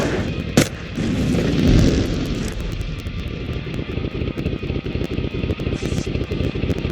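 Rapid, loud bursts of gunfire in the shooter game PUBG, a steady rattling stream of shots after an opening crack and a rumbling blast, heavy and continuous throughout.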